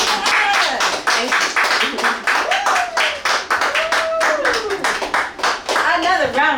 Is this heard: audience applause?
yes